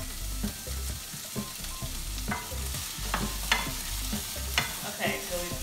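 Onions and carrots frying hibachi style on a hot griddle: a steady, close sizzle with repeated scraping and clacking as the food is stirred and pushed around, and no talking.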